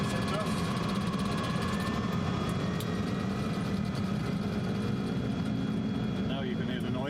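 Boeing 747 engines roar steadily during the takeoff roll, a constant loud droning hum with a faint high whine, with a voice speaking over it.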